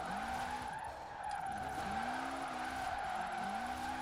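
A Mitsubishi Evo 8 drifts in Forza Horizon 4, its engine holding a steady high drone while tyre squeal rises and falls in repeated sliding waves, continuous and close throughout.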